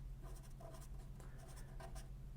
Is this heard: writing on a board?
yes